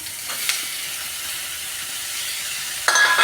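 Masala for egg curry frying in a pan, a continuous hiss and sizzle with a few scraping strokes near the start and a louder burst of sizzling at the end, no talking.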